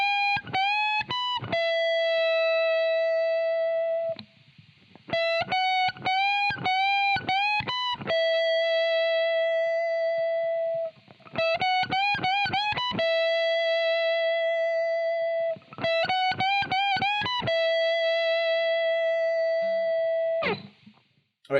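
An electric guitar plays a solo phrase: distorted, sustained notes with string bends that rise and fall, repeated in three similar runs separated by brief gaps, loud and up close with no talking.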